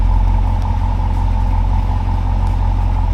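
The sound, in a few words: car with Valvetronic Designs exhaust idling, valves open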